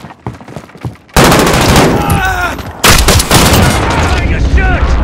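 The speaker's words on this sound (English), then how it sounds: "Friendly precision airstrike on the way." Precision airstrike explosions land in Call of Duty: Modern Warfare gameplay, loud booming blasts and gunfire that erupt suddenly after a quiet start and keep rumbling densely, with game voice lines heard in the middle.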